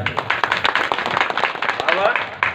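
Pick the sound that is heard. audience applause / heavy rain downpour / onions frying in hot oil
audience applause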